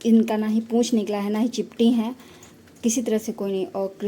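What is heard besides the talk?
No everyday noise stands out behind the speech.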